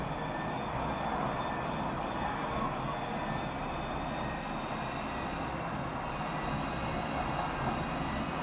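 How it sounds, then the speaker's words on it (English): An electric race car drives in the VR racing game Grid Legends, giving a steady, dense whirring drone with road and wind rush that holds at constant loudness throughout, with no talking. "Listen to that engine purr."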